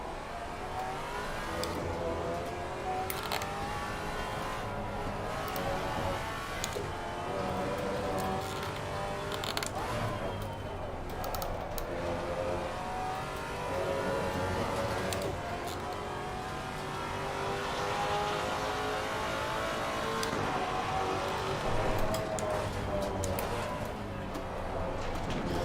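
GT4 race cars, a Maserati among them, roar steadily through a Misano race in the sim racer Assetto Corsa Competizione, their engines droning and revving continuously while a voice talks over the racing.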